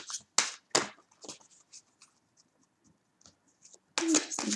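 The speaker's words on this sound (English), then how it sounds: "I'm going to keep shuffling until I get one card here." A deck of tarot cards is shuffled by hand in short bursts of crisp riffling and sliding, with quiet gaps between, close and clear.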